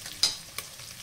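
Bacon browning in a pan for hot dog topping, with a soft steady sizzle and a couple of brief scraping stir sounds, fairly quiet and close with no voices.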